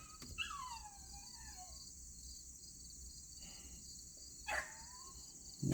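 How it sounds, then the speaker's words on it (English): A Chihuahua yaps faintly in the distance, with a short high-pitched whining bark and a later yelp, over a steady background of chirping crickets. "Y'all hear the Chihuahua?"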